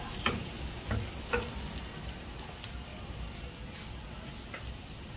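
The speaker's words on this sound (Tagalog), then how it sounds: "Saute lang natin yung ating bawang. At ilalagay na rin natin yung sibuyas." Garlic and onion sauté in a pan, giving a faint, steady low sizzle with a few soft clicks of stirring and no voices.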